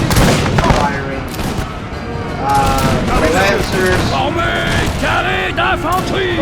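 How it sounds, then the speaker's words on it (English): Old Guard infantry firing musket volleys in a Napoleon: Total War battle: dense, continuous crackling gunfire layered with loud battle noise and tonal game sound. "The old guard"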